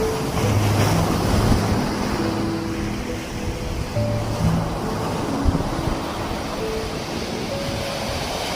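Sea waves wash steadily onto Negombo beach in Sri Lanka at sunset, a continuous close surf roar with wind buffeting the microphone and a faint low engine hum as from a boat offshore.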